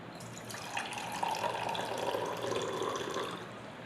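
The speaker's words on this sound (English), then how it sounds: "Now I am going to pour a tumbler of water in a glass tumbler." Water is poured into a glass tumbler in a classroom science demonstration, a soft continuous splashing trickle that rises and falls over a few seconds at low volume.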